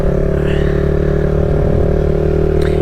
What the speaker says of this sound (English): let's see if we can get the front wheel up on the Z real quick